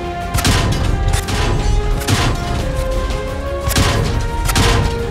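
World of Tanks low-damage hit on a tank: repeated metallic impact thuds and crashes over a dense, continuous battle din, loud and close throughout with several sharp hits.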